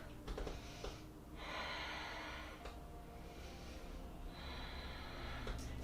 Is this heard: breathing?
yes